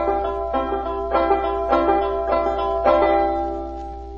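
A five-string banjo plays a steady bump-diddy pattern alone, with about six evenly spaced strum-and-pluck accents ringing close and clear.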